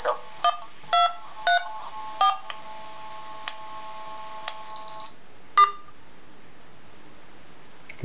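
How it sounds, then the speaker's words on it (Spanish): A Paradox security alarm system with a PCS250 module sounds a run of electronic beeps over a sustained high-pitched tone for about five seconds, then falls quiet except for one more short beep; no one speaks. "hemos visto que ha saltado la alarma"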